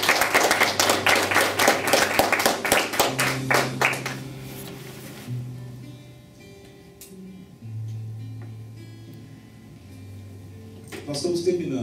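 Church congregation applauding: dense, loud clapping for about four seconds that cuts off abruptly, followed by someone speaking over quiet background hum.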